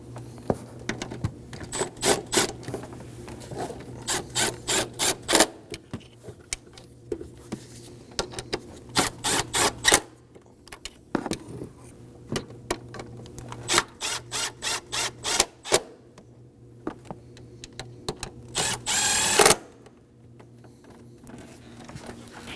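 Ratchet snugging up the high-pressure fuel pump bolts on a 2017-2024 Nissan Armada 5.6L V8, quick bursts of rapid clicking repeated in short runs with pauses between, close and fairly quiet.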